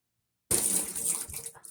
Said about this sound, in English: I have so much water in here, guys, you can actually hear it.